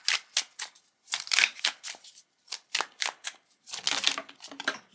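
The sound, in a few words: shuffling tarot cards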